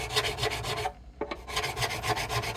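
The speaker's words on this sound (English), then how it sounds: "And back to filing." A file rasps over the frets of a Blueridge BR-40 acoustic guitar in rhythmic back-and-forth strokes, close and steady, with a brief pause and a couple of light taps midway.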